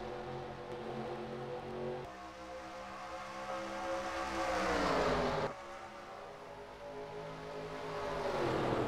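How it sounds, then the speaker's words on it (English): Race cars in NASCAR Racing 2003 stream past one after another, their engine roar swelling and dropping in pitch with a Doppler sweep, then shifting again as the next pack passes. "Watching the cars just go on by."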